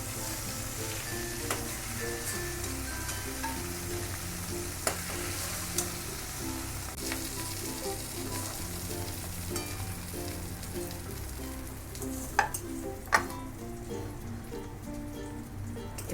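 Prawns frying in hot oil in a pan, a steady close crackling sizzle with scattered sharp pops and spits, moderately quiet and continuous throughout with no voices.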